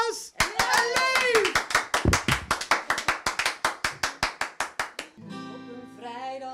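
An audience at a television variety show claps in a fast, even rhythm for a singing group, with voices calling out early on, before the claps stop and a musical tone takes over.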